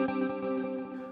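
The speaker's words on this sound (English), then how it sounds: "you can hear immediately you're getting that perfect Strymon reverb tail." Electric guitar run through a Strymon Nightsky reverb pedal, sustained chord with a long, lush reverb tail washing on, loud and close with no talking.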